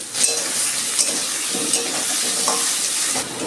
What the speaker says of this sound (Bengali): আলুটা ভেজে তুলে নেব